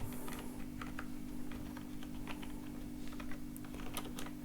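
Steady typing of Python code on a computer keyboard, quick irregular key clicks close by over a constant low electrical hum, with no speech.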